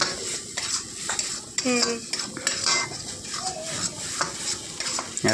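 Pointed gourd frying in a pan for a mustard curry, with a close sizzle under clattering metal stirring and utensil scrapes against the pan, plus a few sharp clinks.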